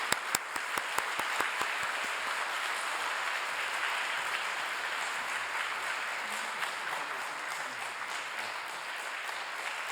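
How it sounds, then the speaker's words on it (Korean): A church congregation at Busan Central Church claps warmly to welcome a pastor to the stage, a dense, steady applause filling the room for about ten seconds with a few sharp individual claps at the start. "이렇게 박수도 열심히 쳐주시고 반갑습니다"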